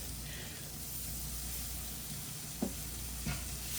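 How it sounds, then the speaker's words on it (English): Milk poured slowly into sausage and flour gravy sizzles in a hot pan, a steady broad hiss with a couple of soft stirring scrapes near the end. "Because you want it to sizzle"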